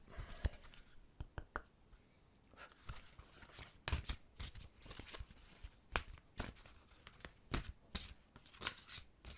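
Tarot cards being shuffled by hand, close and quiet, in repeated quick riffles and soft slaps of card on card, coming in irregular bursts without any voice.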